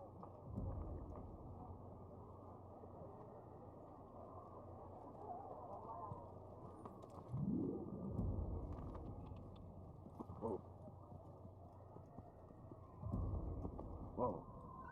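Hooves clop rhythmically as a horse gallops in the Assassin's Creed video game, with bursts of louder movement recurring over low, muffled ambience.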